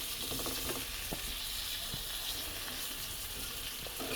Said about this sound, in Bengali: আলুগুলো ভেজে নিচ্ছি আমি।